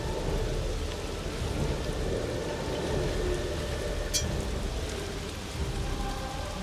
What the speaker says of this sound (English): Only a trickle of water can be heard moving within this shallow underground river then.